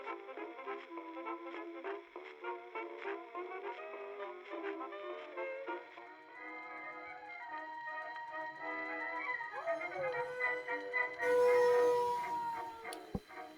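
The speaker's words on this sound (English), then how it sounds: "Is that the sound of your lost werewolf?" Sound effect of a werewolf howling, a long wavering tonal cry that rises and bends in pitch, ending in a brief burst of harsher noise.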